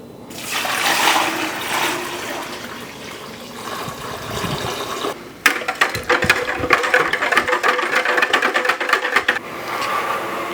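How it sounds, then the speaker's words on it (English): Water, about 4 liters, pours into a cooking pot while pork pastrami is prepared. A softer trickle comes first, then a loud, bright, rushing splash after a brief pause. "Now we're just going to add the water."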